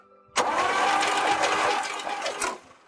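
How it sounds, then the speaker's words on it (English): A 1963 Chevy panel Suburban engine cranks over on its starter, a loud rapid mechanical churning that starts abruptly, holds steady for about two seconds, and then stops. "And you see there, engine turns over."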